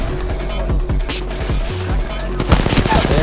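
Rapid bursts of video game gunfire crackle in a dense, close exchange, with voices talking over the shooting.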